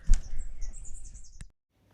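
A single bird gives a short, thin chirp close by at a quiet, peaceful campsite, and the clip then falls silent.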